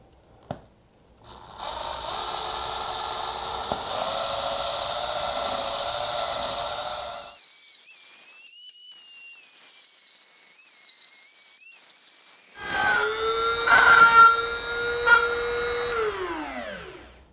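A power drill whines steadily for several seconds, goes quiet, then spins up again with a rising and falling whir as it bores a pilot hole in PVC sheet.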